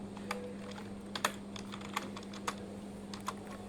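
Code in Dart for a Flutter app is typed on a computer keyboard: quick, close key clicks in an uneven rhythm over a low steady hum, with no voice.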